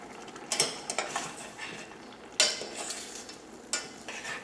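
A spoon stirs a boiling curry in a pot, giving a few sharp scrapes and clinks against the metal over a soft bubbling background, close and fairly quiet.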